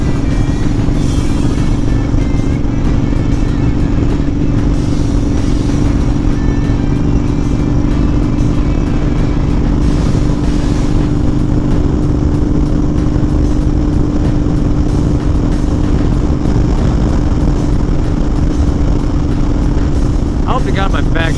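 A Honda Fury motorcycle cruises on the freeway, its engine a steady loud drone mixed with heavy wind rush that holds constant throughout, with no talking.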